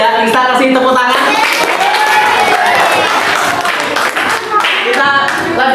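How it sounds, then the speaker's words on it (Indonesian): A class of students claps together during a primary school lesson, loud, close rhythmic hand claps in bursts over a roomful of noise, with voices mixed in. "Kita kasih tepuk tangan."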